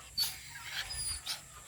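A dog pants and snuffles close by in short breathy bursts, fairly quiet, with a couple of sharper huffs standing out over a low background.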